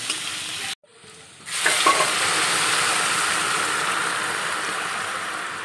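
Hot water poured into frying spice masala for an egg curry hits the pan with a sharp burst, then a loud, steady sizzle that keeps bubbling close by without talk.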